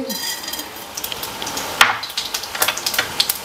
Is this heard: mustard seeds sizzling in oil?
yes